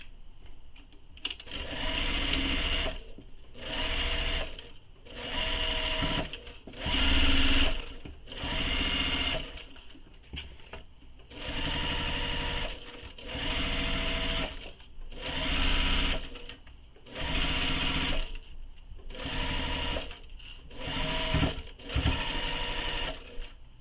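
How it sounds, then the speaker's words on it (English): Sewing machine stitching a seam on a tote bag, loud rhythmic runs of rapid stitching that stop and start about a dozen times, with brief pauses between bursts. "So now I'm going to sew this with the seam allowance given in the pattern."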